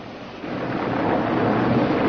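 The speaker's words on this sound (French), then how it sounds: "j'écoute la pluie" Heavy rain pouring steadily with a low, swelling rumble of thunder building underneath.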